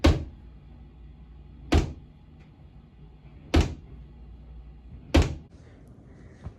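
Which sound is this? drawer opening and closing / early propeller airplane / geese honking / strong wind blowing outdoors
drawer opening and closing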